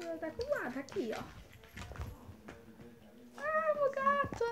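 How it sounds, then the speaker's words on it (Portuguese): A house cat meows several times, close and clear, with a person's voice speaking nearby between the meows. "Ah, meu gato, vem aqui"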